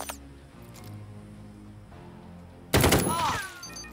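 A short, sharp burst of gunfire rings out as Igor shoots in the video game Jagged Alliance 3, breaking in loudly near the end after a quiet stretch of background game ambience.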